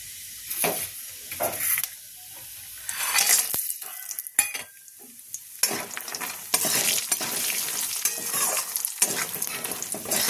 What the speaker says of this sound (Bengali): কালো জিরা ফোড়ন দিয়ে আমি প্রথমে বড়িগুলোকে ভেজে নেব